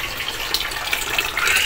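Water runs from a faucet into a plastic drum serving as an overhead tank, a steady hissing gush that holds even and swells slightly louder near the end, with no talking over it.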